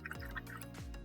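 A paintbrush swishes and drips in a jar of clean water during rinsing, giving a brief, soft liquid gurgle with a falling, gargle-like tone, close and quiet.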